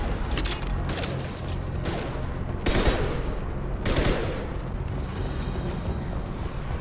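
A high impact shot fired in the video game Mass Effect 2 sets off loud, dense bursts of gunfire, with heavy blasts booming and fading over a constant roar of battle.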